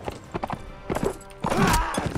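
A horse gallops in the medieval combat game Mount and Blade: Warband, with quick close hoof clip-clops in bursts and a short neigh-like cry near the end amid game noise.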